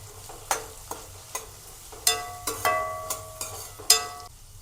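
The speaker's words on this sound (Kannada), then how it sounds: "ಚೆನ್ನಾಗಿ ಫ್ರೈ ಮಾಡಿ ಬೇಯಲಿ ಇವಾಗ ಕರಿಬೇವು ಹಾಕೊಳ್ಳೋಣ" Capsicum and curry leaves frying in hot oil in a pan, a soft steady sizzle broken by repeated sharp clinks of a spoon stirring against the pan, close and clear.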